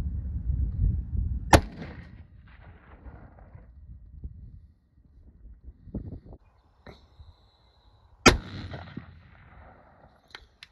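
Rifle shots fired while hunting rock chucks outdoors: two sharp, loud cracks several seconds apart, each with a brief echoing tail, amid wind and quiet low rumble between them.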